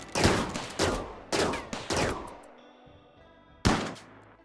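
Shotgun fire in the RimWorld video game: five sharp, loud blasts come in quick uneven succession, each followed by a brief decaying tail.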